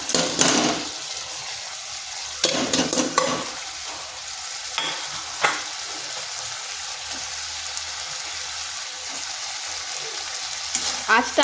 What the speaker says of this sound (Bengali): আঁচটা মিডিয়াম টু স্লো আঁচে রেখে আলুটাকে বেশ কিছুক্ষণ এইভাবে কষে নিতে হবে।